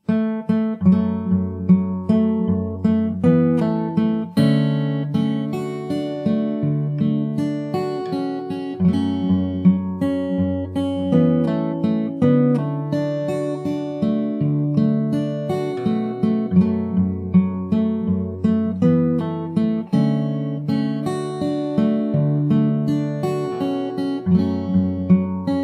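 Fingerstyle acoustic guitar plays a pre-chorus: plucked melody over ringing bass notes and chords, steady and close, solo with no voice throughout.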